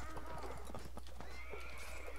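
Horse hooves clip-clopping with a whinny in the Mount & Blade video game, steady rhythmic hoofbeats with a neigh over a constant low game background, faint voices beneath.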